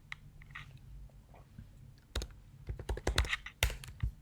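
Fast typing on a computer keyboard, a dense run of close clicky keystrokes building after a few scattered taps.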